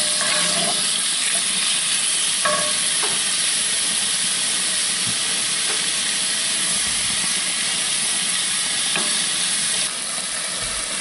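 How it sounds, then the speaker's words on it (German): Loud, steady sizzling of gulasch meat searing in hot clarified butter, a continuous close hiss with no talking. "jetzt haben wir unser Fleisch rein. Wir werden das scharf anbraten."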